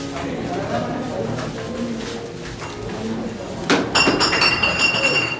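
Glasses clink together in a toast during a school musical play, a bright chiming burst near the end that rises over voices talking.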